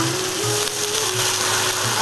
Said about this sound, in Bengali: একদম অল্প জল দিয়েছি মশলাটা কষানোর জন্য